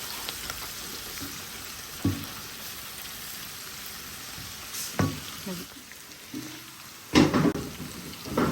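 Korean-style eggplant salad being stirred and tossed in a bowl, a steady wet rustle with a few louder scrapes and clunks spread across the stretch, close and fairly quiet.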